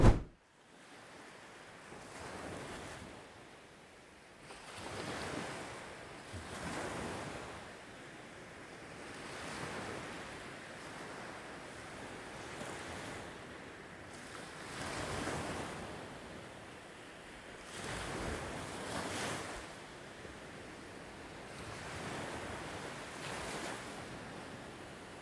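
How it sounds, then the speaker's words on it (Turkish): Ocean surf and wind beside a canal in San Diego: waves roll in and wash out in slow repeated swells every few seconds, under a constant wind rush buffeting the microphone, with no one speaking. "Okyanus hemen diğer taraf."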